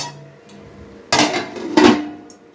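A metal pan of goat blood and egg fry being stirred and covered: two sharp, close clanks of metal on metal about half a second apart, with quiet kitchen sounds between them.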